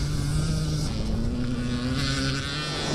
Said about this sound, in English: on the 2-stroke machine, you can hear that. Gathering up the revs.